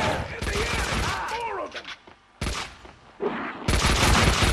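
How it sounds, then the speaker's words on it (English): Gunfire from the guns in the Max Payne 2 video game comes in dense, loud rapid bursts that break off briefly and then resume, with someone talking over parts of it. "The guns make interesting sounds in this game."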